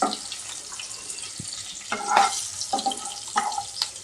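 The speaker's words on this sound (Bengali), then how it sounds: "হালকা একটু ভেজে নিচ্ছে।" Green chillies fry lightly in a pan for a traditional Bengali dish, giving a soft, steady sizzle with occasional louder spatters and stirring clinks, fairly close.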